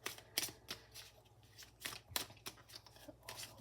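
A deck of tarot cards is shuffled in repeated riffles and slaps close by, a rhythmic series of papery bursts over a faint low hum.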